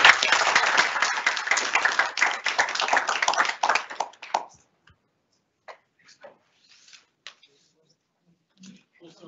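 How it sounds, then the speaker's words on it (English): Audience at a tech meetup applauds loudly for about four seconds, dense clapping that then cuts off, followed by a few scattered faint taps and shuffles in near silence. "Let's just have one final round of applause."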